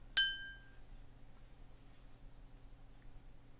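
A teacher strikes a single small bell during an English grammar lesson: one sharp bright ding that rings out and fades within half a second, followed by quiet room tone.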